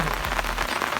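Steady rain pattering on a surface close by, a dense hiss of drops with no voices.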